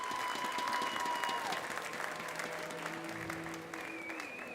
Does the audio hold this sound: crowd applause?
yes